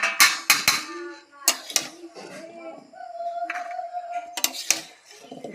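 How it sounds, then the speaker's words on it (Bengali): Roasted chickpeas fried with potatoes are scooped from a pan onto a plate, giving sharp metallic scrapes and clinks in quick bursts near the mic, separated by quieter kitchen background with a steady hum. "এরকম ছোলা ভাজা তুলে নিচ্ছি।"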